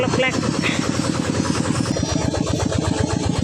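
A walking tractor's single-cylinder engine runs close by with a loud, rapid, even chugging beat that never lets up, while voices briefly sound over it.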